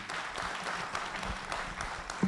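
Applause from an audience at a real estate summit, a steady wash of many hands clapping at moderate level, with a brief low thump near the end.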